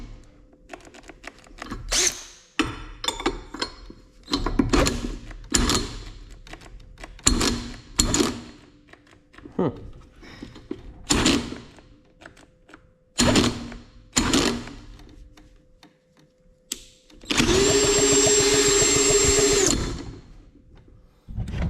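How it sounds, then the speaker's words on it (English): A power drill with a socket spins over a Briggs and Stratton lawn mower engine with no spark plug, whirring in repeated short bursts with brief pauses, then one longer steady spin near the end, loud and close. "I'll just use a drill with a socket on it to spin it over"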